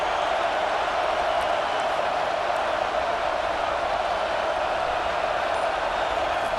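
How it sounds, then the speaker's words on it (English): A stadium crowd at an American football game roars steadily and loudly throughout, a dense, unbroken wash of noise with no single voice standing out. "listen to this crowd noise. This stadium is vibrating."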